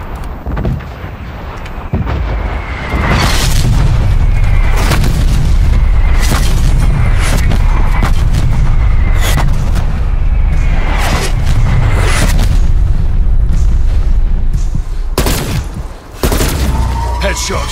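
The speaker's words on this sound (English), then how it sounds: "Calling in artillery." Artillery strike in Call of Duty Black Ops Cold War Zombies: a long barrage of loud booming explosions and blasts, irregular and overlapping, with rumbling aftermath that fills the space continuously.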